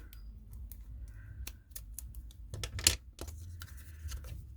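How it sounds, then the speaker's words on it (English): Scissors cutting card stock down the center for a handmade fall card, a close series of crisp snipping strokes in an uneven rhythm, with no talking. "I'm going to cut this down the center here."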